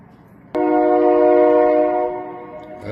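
SRY freight train locomotive horn sounds one sustained, loud, steady blast from about half a second in, easing slightly toward the end, with no talk over it.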